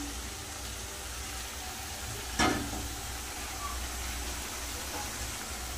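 Marinated eggplant goes into a hot pan, giving a steady broad sizzle of frying with a brief louder splash and crackle as the pieces land, then continuous hissing.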